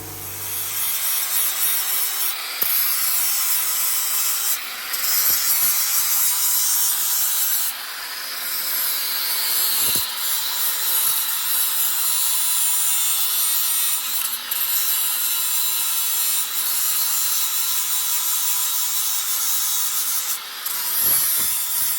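A flap disc grinding a cut on a bagged S10 pickup while fitting front shocks, a steady abrasive rasping with brief pauses and restarts every few seconds, close and alone without speech.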